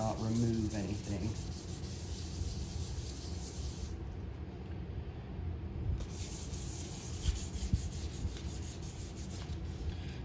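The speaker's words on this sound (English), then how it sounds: "the goal here is just to really finely smooth everything" Steady rubbing of sandpaper over wood, a continuous close-up hissing scrape that pauses briefly in the middle before resuming.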